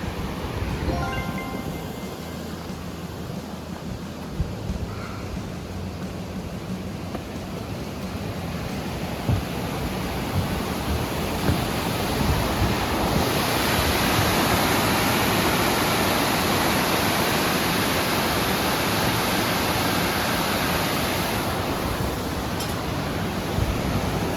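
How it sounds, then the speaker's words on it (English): Little rapids rush steadily on a river beneath a bridge along a hiking trail, a dense, constant broadband roar of water, close and unbroken, with some wind buffeting and no voices. "Really cool bridge here and some little rapids on the river."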